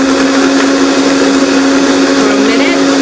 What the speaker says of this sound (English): we're going to put it all in our blender